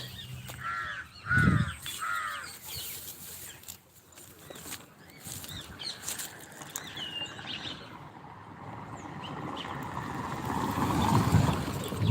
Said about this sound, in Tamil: குருவியெல்லாம் கத்திட்டு இருக்குது காலையில்